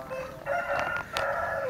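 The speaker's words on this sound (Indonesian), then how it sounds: "Ada ayam juga." A rooster crows once from a short distance at a villa on Mount Salak, a drawn-out rising and falling call over faint background noise.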